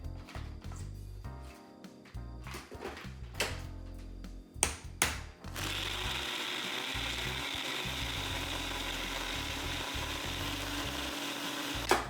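Ice and piña colada ingredients rattle and clunk in a blender in a few irregular knocks, then the motor starts into a loud, steady grinding roar that holds to the end.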